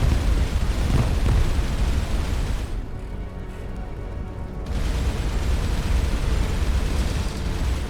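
Missile explosions in the space video game Starcom: Unknown Space form a continuous loud rumble of booms and blasts, thinning briefly in the middle before swelling again.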